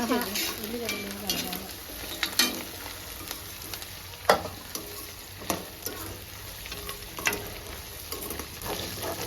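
Prawns and onions fry in a pan for a gonguru prawn dish, a steady sizzle with scattered clicks and scrapes of stirring, close and moderately loud, with occasional brief speech.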